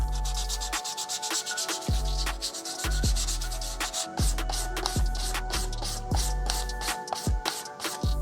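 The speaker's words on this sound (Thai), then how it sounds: "ผมว่าผมจะขัดกระดาษทรายครับ" Sandpaper rubs back and forth across a part of a handmade gaming keyboard to roughen it before painting, in steady, close, scratchy strokes about once a second with no talk.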